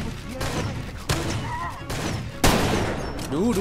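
Bolt-action style rifle shots in the shooter game Far Cry 2 ring out as several loud, separate blasts spaced about a second apart over continuous in-game noise.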